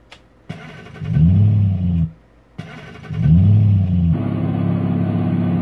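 A fast car accelerates hard twice, each loud engine surge climbing in pitch before cutting off briefly, then settling into a steady close rumble, with no talking.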